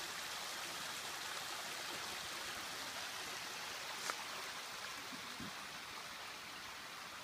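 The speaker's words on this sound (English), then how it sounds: "it's like miniature waterfalls down here" Steady rushing of water spilling over small drops into a flowing stream, a continuous broadband wash with no voices.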